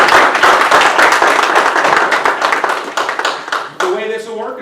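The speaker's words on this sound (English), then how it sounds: "I'd like to really quickly give them a round of applause." Dense audience applause at a city commission candidate forum, loud and close, dying down toward the end as a voice starts speaking.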